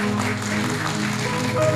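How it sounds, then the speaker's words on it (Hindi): Applause from an audience welcoming a young woman on stage at a community jubilee gathering, a steady broad wash of clapping under a low musical hum that holds through the whole moment. "जोरदार ताली से शिवानी का स्वागत करेंगे।"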